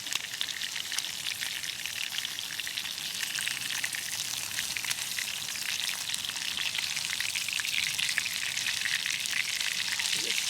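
Food simmering in a pan over a Firebox XL stove at an overnight wild camp at Dunseverick, a steady close hiss and crackle of gentle frying that runs on without a break.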